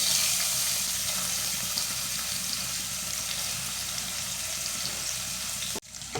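Green chillies, shallots, ginger and garlic, crushed on a grinding stone, fry in hot oil with a steady close sizzle before the sound cuts off abruptly near the end.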